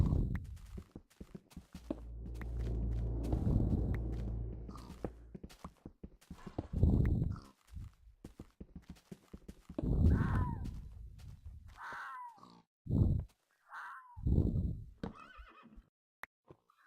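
Horses in the Minecraft video game whinny loudly several times, with clip-clop hoofbeats and scattered game noises between the calls, no talking.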